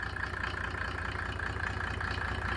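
A Mercedes OM603 3.0 diesel engine idles steadily with a low, even rumble and a smooth, unchanging hum, no revving and no voices.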